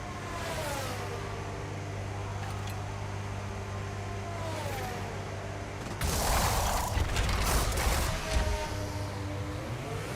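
Racing pit stop in F1 25 while serving a 10-second stop-go penalty: an idling, whining car engine with mechanical clatter, then a sudden louder burst of revving and rattling as the car pulls away.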